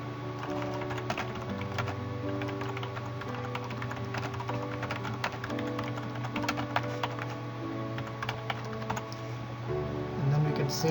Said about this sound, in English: I'm going to just quickly type some random comments here.